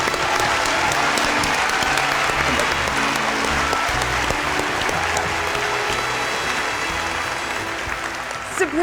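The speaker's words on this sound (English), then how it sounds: "let's give our 6 charities and special guest presenters a round of applause" Sustained applause from a concert audience honoring charities and guest presenters, a thick, even roar of clapping with crowd murmur and some voices mixed in, fading slightly near the end.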